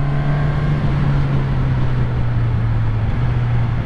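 A 2022 Suzuki Katana motorcycle being ridden, its engine a steady, close droning note that dips slightly in pitch a couple of times, with no clear gear-change clicks and no talking.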